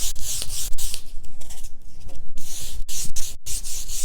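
Sandpaper rubbed by hand across a wooden coffee table top, a steady scratchy back-and-forth with a few brief pauses, close and fairly loud with no talking.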